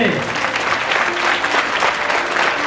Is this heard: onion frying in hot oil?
no